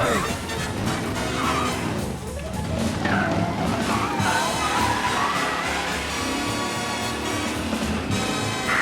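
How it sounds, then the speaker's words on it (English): Tires squeal and skid continuously with a roaring engine as a race car slides through turns in the video game Mafia: Definitive Edition, loud and sustained for several seconds. "Be alert for a race car out on the roads tonight."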